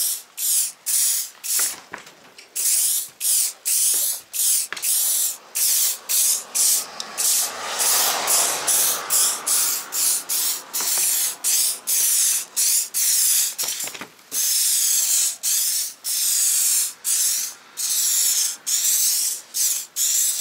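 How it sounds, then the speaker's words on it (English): A silicone spray aerosol can sprays in rapid repeated bursts onto an aluminum trailer door, loud and close, a harsh hiss cut by brief pauses, with one longer continuous spray midway. "make sure that you actually give her a shot of the silicone spray"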